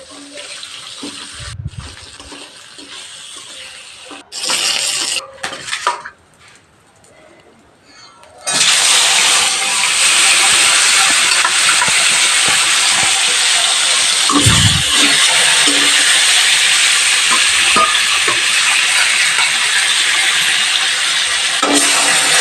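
A few quiet clatters and bumps, then hot oil bursts into a loud, sustained sizzle as katla fish pieces fry in a pan and are flipped, with occasional scraping.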